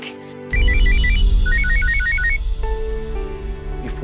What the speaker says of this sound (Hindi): ये फोन क्यों नहीं उठा रही?